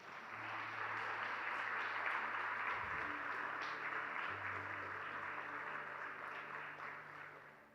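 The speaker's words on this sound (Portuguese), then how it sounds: "Vamos aplaudir Jesus" A church congregation applauds for Jesus during a sermon, a broad wash of clapping that swells and holds for several seconds, with a low sustained organ or keyboard tone running beneath it.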